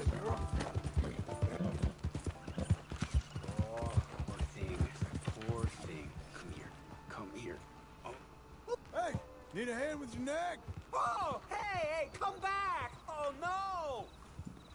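Horse hooves clip-clopping in Red Dead Redemption 2, a rhythmic run of close hoof beats with an occasional whinny, under someone talking.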